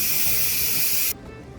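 A pressure cooker cooking pinto beans vents steam on quick release: a loud, steady, close hiss that cuts off abruptly, leaving only faint room noise.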